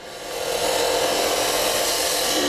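A lathe gouge cuts a cove into spinning wood, producing a steady, loud, close hissing shear that builds over the first half second and then holds evenly, alone without talk.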